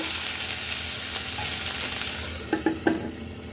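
Chopped tomatoes sizzle steadily in a hot pan for egg biryani, with a few sharp spoon scrapes and knocks near the end as they are stirred.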